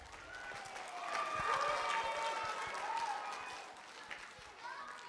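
Applause at a children's awards night in a church hall, a round of clapping for a young award recipient, moderately loud and steady with some crowd noise and voices mixed in, tapering slightly toward the end.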